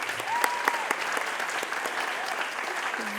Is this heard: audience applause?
yes